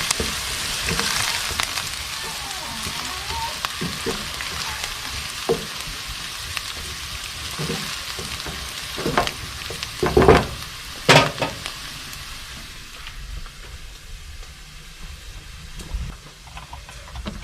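Onions frying in a pot for a zucchini stew give off a steady, close, loud sizzle, broken by a few clanks and stirring scrapes midway. The frying fades somewhat toward the end.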